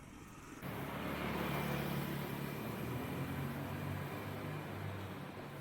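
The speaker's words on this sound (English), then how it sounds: "an odd motorbike passing through" A motorbike passes through an empty street during lockdown in Nha Trang, Vietnam, its engine droning steadily at moderate distance for several seconds amid faint background noise.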